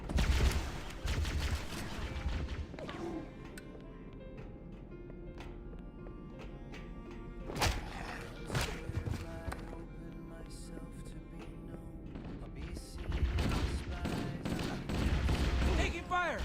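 Gunfire in the video game Halo: Combat Evolved on Legendary difficulty, with dense bursts of rapid shots and explosions over continuous battle noise, heaviest at the start and end.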